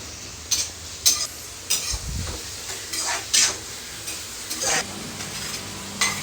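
Onions sauté in a pan for Schezwan fried rice. A soft sizzle runs throughout, with repeated sharp scrapes and taps of a spoon stirring against the pan at an uneven rhythm.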